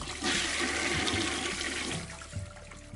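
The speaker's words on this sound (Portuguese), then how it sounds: "Dessa vez foi o barulho de descarga." A toilet flushes in a single loud, continuous rush of water that swells, then drains and tapers off over a few seconds, with no voices.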